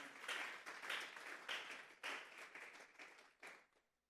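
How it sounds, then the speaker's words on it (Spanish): Church congregation clapping together as an offering of praise to God, a dense, sustained round of applause in several swelling bursts that fades out near the end. "Vamos a darle una ofrenda de palmas a Dios en esta hora."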